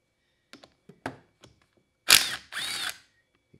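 Tool work on a Honda CR125 motorcycle engine, taking out three 10 mm bolts: scattered light clicks and metallic taps, then two loud bursts of a power driver spinning close by, each lasting under half a second.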